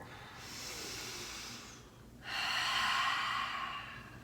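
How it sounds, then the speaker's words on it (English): Two long, breathy exhalations during a yoga class, the first soft and steady, a short pause, then a stronger, louder release of air; no talking. "Let it go with the exhale."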